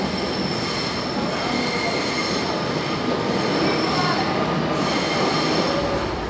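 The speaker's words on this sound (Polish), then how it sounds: "Jest to całkiem przyjemne metro." Buenos Aires metro train running on rails, a loud continuous rumble with high-pitched wheel squeal throughout, heard from inside the carriage without talk.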